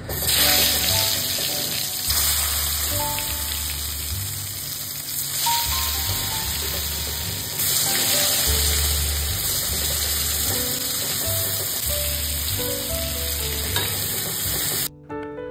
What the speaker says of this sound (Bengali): এবার একে একে বেগুনগুলোকে দিয়ে খুব ভালোভাবে ভেজে নিতে হবে